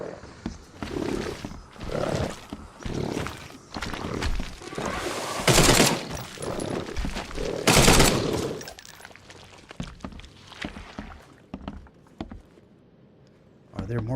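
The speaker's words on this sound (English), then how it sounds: "we're going to get the Tommy gun out." Tommy gun firing in The Sinking City, with loud rapid bursts standing out between roaring creature sounds and a voice talking over the fight.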